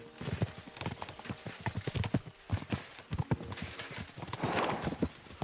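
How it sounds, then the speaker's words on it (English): Horses gallop in the medieval video game Kingdom Come: Deliverance II, a fast, uneven clatter of hooves close by with a brief whinny near the end. "We should spur the horses on"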